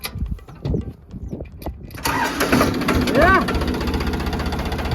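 A tractor engine cranks after low talking, then catches and settles into a steady, loud, rough idle with a throbbing rhythm, close by, with voices continuing over it.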